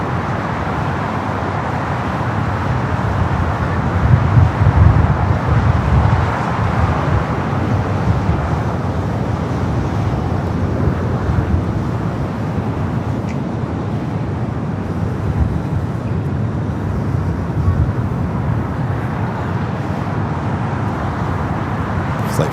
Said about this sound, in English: the Lufthansa A380 Super rolling down to 24 left